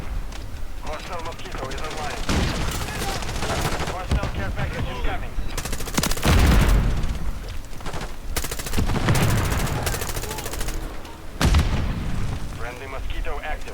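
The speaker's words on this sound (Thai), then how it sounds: "ปืนที่นี่แม่งโคตรแรงเลยเว้ย" Call of Duty Warzone gunfire in repeated loud bursts of automatic shots and heavy booms, mixed with game noise while players talk throughout.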